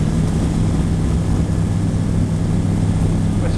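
A light aircraft accelerates down a runway for takeoff, its propeller engine droning loud and steady with a strong low hum and cabin rumble.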